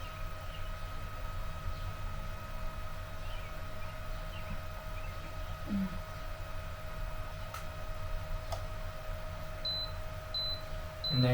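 A countertop herbal infusion machine finishing its cycle gives a few short, quiet electronic beeps near the end, over a steady background hum.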